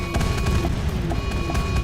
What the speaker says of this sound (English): As the blast rolls outwards across the map, a wave of unstoppable devastation races out in all directions